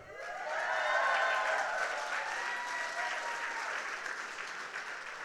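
A seminar audience at a marketing event in New Jersey applauds, a full round of clapping from many people that swells quickly, holds steady, and slowly thins out.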